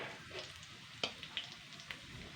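Whole cumin seeds sizzle in hot oil in a pan used for frying an egg, a soft steady crackle with a few sharp pops, fairly quiet and without talk.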